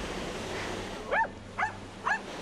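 Dog giving three short yelping barks spaced about half a second apart, mid-distance, over steady background noise.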